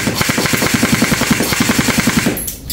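An airsoft gun fires a rapid full-auto burst of evenly spaced loud shots for about two seconds, close up, then cuts off abruptly.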